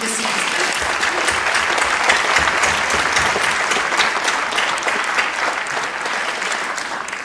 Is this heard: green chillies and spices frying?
no